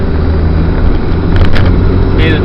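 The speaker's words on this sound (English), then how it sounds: "Hear the turbo whistling." A Jeep Cherokee 2.5 TD climbs a steep hill in third gear, its diesel engine droning loudly inside the cabin, with a faint turbo whistle riding above the low engine rumble.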